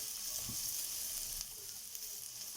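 Beetroot pieces with curry leaves fry in a pan, giving a steady, fairly quiet sizzle with a few soft stirring knocks and no voices.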